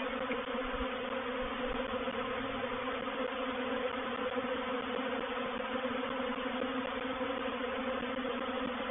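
A large swarm of honey bees clustered in a tight knot buzzes in a steady, dense drone, close and continuous with no pauses.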